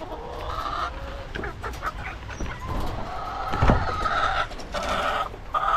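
Backyard chickens clucking steadily near their eggs, a busy, continuous chatter of several birds close by with a few louder calls and faint background noise, no talking.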